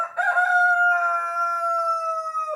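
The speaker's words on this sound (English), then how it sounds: "anytime I'm down in the garage working, the chickens have to be in here with me." A rooster crows once in a garage, a long drawn-out call heard close and clear in a quiet space.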